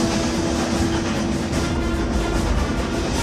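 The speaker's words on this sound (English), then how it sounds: "this locomotive is not going to stay together very long" A steam locomotive from a film chugs along in a dense, continuous rumble with a steady hiss and rattling clatter, moderately loud and without speech.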